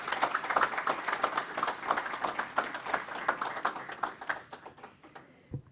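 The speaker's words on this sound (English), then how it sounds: "Another round of applause for Elena" An audience applauds steadily at a ribbon-cutting ceremony, a dense patter of many hands clapping at moderate distance for several seconds before fading out at the end.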